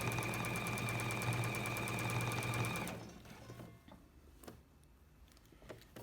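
A sewing machine runs steadily, stitching the last side of a dress seam, with a loud, even mechanical whir for about three seconds before it stops and soft handling noises follow.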